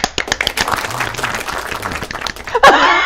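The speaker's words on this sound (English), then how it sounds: "Give everybody a round of applause." A small audience claps and applauds on request at a live talk show, a scattered burst of hand claps with some laughter and a voice mixed in, ending with a louder clattering noise.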